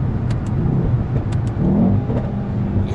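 A Mercedes-AMG S 63 in Sport Plus mode revs its engine with a steady, loud mid-range roar that swells slightly partway through, heard from inside the car.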